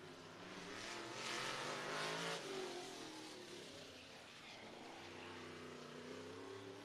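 Race car lapping the Indianapolis Speedrome during the JAKES 150, engine roaring loudly as it passes, peaking then easing into a steady drone heard from trackside.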